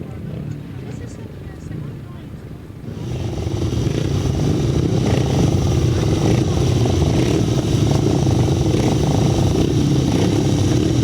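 500cc sidecar racing outfits at a grasstrack meeting at Bewdley, engines droning and building to a loud sustained roar from about three seconds onward, with a public-address voice speaking over the noise.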